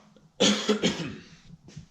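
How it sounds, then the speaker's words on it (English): A few harsh, wet coughs in quick succession, close and loud, trailing into a softer rasp at the end. "this cough is killing me"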